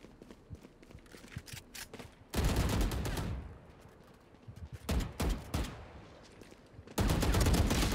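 Gunfire in a competitive shooter video game: loud, dense sustained bursts of automatic fire, broken by a quieter gap with scattered shots, then another heavy volley at close range.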